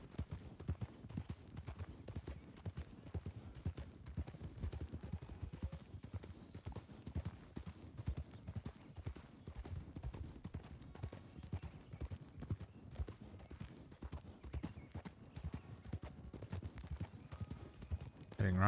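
Horses walking with a steady, continuous clip-clop of hooves, fairly faint and even-paced throughout, with no talk over it.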